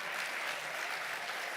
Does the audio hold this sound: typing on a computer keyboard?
no